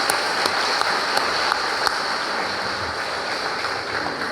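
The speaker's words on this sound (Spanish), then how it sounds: "le damos a Domingo Darío un aplauso de ánimo en su formación" Church congregation applauding during Sunday Mass, a steady wash of clapping held at even loudness for several seconds with a few sharper claps standing out.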